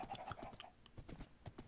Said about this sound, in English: these horses make a crazy noise when they get punctured